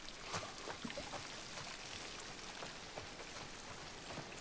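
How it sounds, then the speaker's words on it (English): Heavy rain in The Last of Us Part 1 hisses steadily as a faint, even downpour with scattered drops pattering on surfaces and no voices. "it's absolutely pouring with rain, but it's still beautiful"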